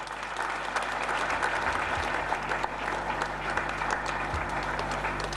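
An RCM business gathering audience claps in a steady, sustained round of applause, with the full crowd sound continuing at even loudness throughout.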